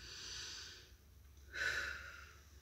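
A deep held breath released during a guided breathing meditation, a soft airy exhale swelling up after a quiet pause, close and gentle with no talk over it.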